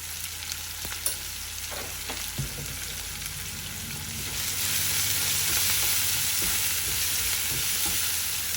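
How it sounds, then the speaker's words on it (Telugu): Onions fry in a pan with salt and turmeric for an okra masala fry, starting with a soft sizzle and clicks of stirring, then swelling into a louder, steady close-up sizzle with no speech. "ఇప్పుడు ఉల్లిపాయలు కొద్దిగా సాఫ్ట్గా అయ్యే వరకు 2-3 నిమిషాలు వేయించుకోవాలి"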